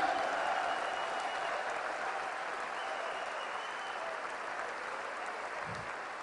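A church congregation claps together in steady, dense applause that fills the room and slowly eases off, with no voices over it.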